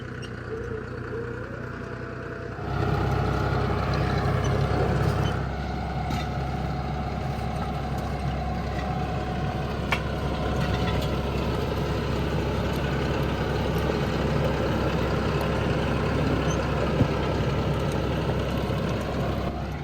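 A tractor engine labours steadily and loudly as it pulls a homemade subsoiler up a hill. The drone holds for a long stretch without a break, and no one speaks.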